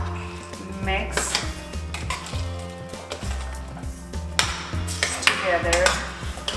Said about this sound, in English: So now I'm going to add the green peas.